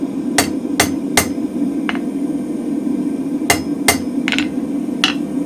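Sharp metallic hammer blows ring out on a mild steel bar on a blacksmith's spring fuller, a quick group of three, a softer tap, then another cluster of strikes, close and loud.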